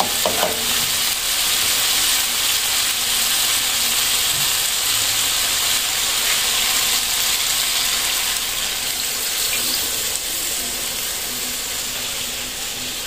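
Green papaya frying in coconut milk in a pan: a steady, loud sizzle and hiss that runs throughout, with faint stirring sounds near the start and no talking.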